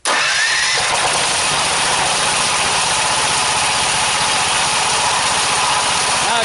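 A choked engine on a DC generator cranks and catches at once, then settles into a loud, steady low-speed idle with a dense mechanical chatter and vibration close by.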